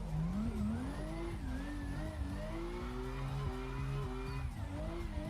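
Drift car engine in Assetto Corsa revving and dropping through gears without braking, a loud, continuous engine whine rising and falling in pitch with repeated downshift blips.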